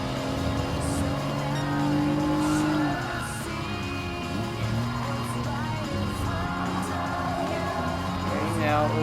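Nissan Fairlady Z 300ZX twin-turbo racing in Gran Turismo Sport during a power slide, steady engine drone with a rising, wavering tire squeal, someone talking over the game sound throughout.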